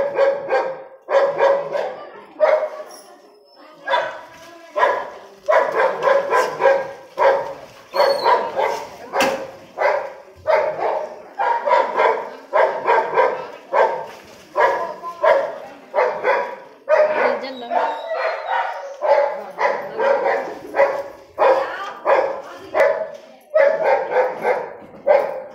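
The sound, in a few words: dog barking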